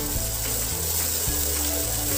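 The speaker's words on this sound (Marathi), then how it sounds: "ही प्युरी आपण साधारण मिनिटभर छान तेलावरती परतून घेणार आहोत" Onion-tomato puree sautés in oil over a medium flame, a loud, steady sizzle with a continuous bright hiss and low hum running throughout, close by.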